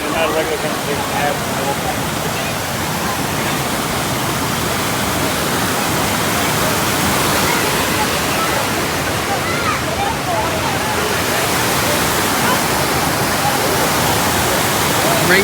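A river waterfall rushing with a loud, steady broadband roar of falling and churning water, heard close and continuous with a voice talking beneath the noise.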